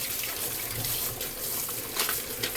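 Goalkeeper gloves rinsed under a running tap, a steady close gush of water splashing in a sink with no break for the whole stretch.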